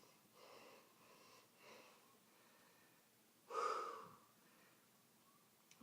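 Heavy, wheezy breathing from a man who has just finished 60 push-ups: a few soft huffs followed by one loud, sharp gasping breath, close and alone.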